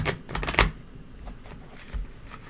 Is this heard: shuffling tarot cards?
yes